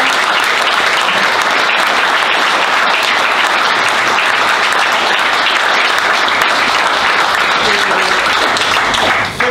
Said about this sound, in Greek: Να δώσουμε άλλο ένα μεγάλο χειροκρότημα στην κυβέρνηση.